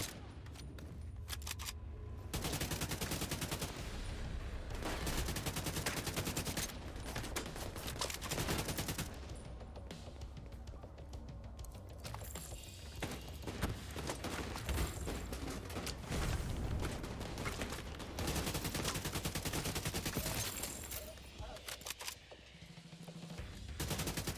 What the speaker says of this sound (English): as she runs into a bunch of people that are gonna start shooting